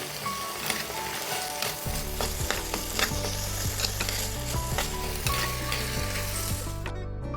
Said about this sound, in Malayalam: ഇനി നമുക്ക് അതിലേക്ക് കുറച്ച് കറിവേപ്പില ഇട്ട് നന്നായി മിക്സ് ചെയ്തെടുക്കാം.